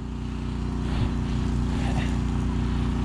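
A homemade hydroseeder's engine runs at a steady idle, a constant low throbbing drone close by and loud throughout without pause.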